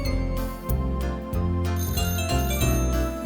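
Telephones ringing all over the village of Greendale in the 1996 Postman Pat cartoon, with several trilling rings overlapping over a steady musical background. The repeated electronic jingles come in a loud, busy pattern.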